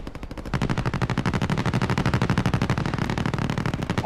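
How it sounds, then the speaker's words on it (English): Rapid automatic gunfire from a zombie shooter video game, a dense, steady stream of shots that starts a half-second in and keeps pounding without pause, loud and close. "All I hear is a shooting."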